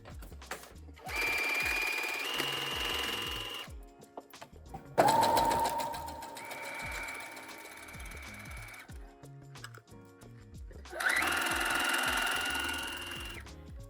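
A domestic sewing machine stitches a horsehair braid hem onto ribbon with a normal presser foot and matching thread. It runs in three loud, steady bursts separated by short pauses, with no talking.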